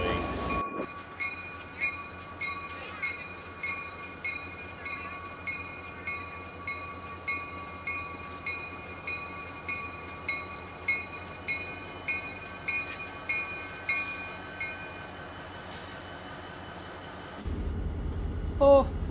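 Diesel locomotive pulling away, a steady low engine rumble with a regular rhythmic chugging pulse and sustained tonal whine, fairly quiet and continuous before a brief louder shift near the end.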